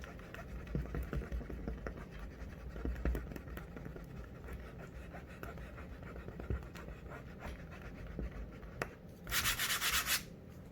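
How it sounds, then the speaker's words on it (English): A pencil eraser rubbing out sketch lines on a canvas for an acrylic pumpkin painting, making steady close scrubbing strokes that end in a brief louder burst. "This part I need to erase."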